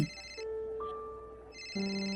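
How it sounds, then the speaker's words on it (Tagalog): Mobile phone ringtone in a radio drama, a soft electronic tune of steady sustained tones that is muffled and faint, sounding as if it comes from inside a pocket, with no talk. "Nagre-ring ang cellphone mo sa bulsa mo."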